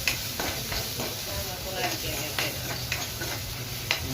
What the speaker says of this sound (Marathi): मस्त असं फ्राय करून घेऊ कांदा आणि मिरच्या.